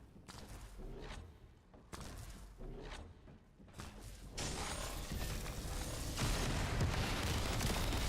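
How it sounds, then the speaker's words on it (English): Rocket launcher fire in The First Descendant game: several heavy booming blasts in quick succession, followed by a sustained louder rumbling roar of explosions that builds toward the end. "This dude's shooting a rocket launcher."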